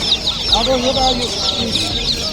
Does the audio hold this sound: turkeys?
yes